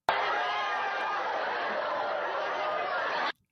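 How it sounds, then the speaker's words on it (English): Dense crowd noise from many people fleeing in terror, a steady wall of overlapping voices and commotion holding at an even loudness for about three seconds before cutting off abruptly. "That was a crowd running in terror"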